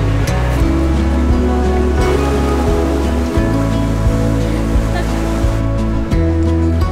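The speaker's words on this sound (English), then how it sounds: "the waves are coming in pretty quick" Ocean surf rolls in on the Oregon coast near Florence, a loud, steady roar of breaking waves and rushing water filling the whole stretch with no pauses and no talk.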